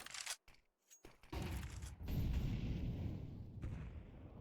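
Rapid gunfire from a Counter-Strike 2 match in a women's esports game crackles after a few brief sharp reports, settling into a dense, continuous burst of shots at moderate loudness.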